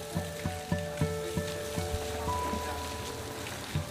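Rain patters steadily on an outdoor theatre stage and its soaked scenery on a July day, an even wash of drops with a few soft knocks, fairly close and without talk.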